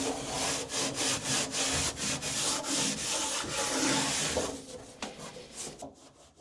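A roughened surface in a hybrid electric trawler's engine room is wiped down with alcohol before insulation goes on. Fast, close, rhythmic rubbing strokes continue steadily, then thin out and fade at the end.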